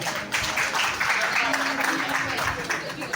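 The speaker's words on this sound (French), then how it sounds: "Merci d'applaudir pour Petit Bouba." Applause for a contestant at a holiday talent-show final in a club: a continuous broadband patter of many hands from the audience, steady and moderately loud, with a faint voice or tone underneath partway through.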